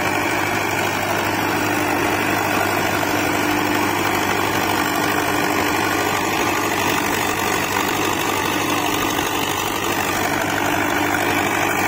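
A Farmtrac 6055 or Eicher 485 tractor engine runs loud and steady while working a rotavator in a field, with a constant low drone and rattle throughout and no voices.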